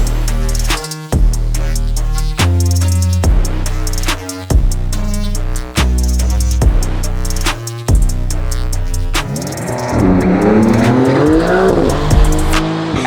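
Tuned Porsche 992 with a PDK transmission and a 600 horsepower engine tune, driven hard on a race track: loud, close engine revs rising through repeated quick gear shifts, then tire squeal and skidding near the end.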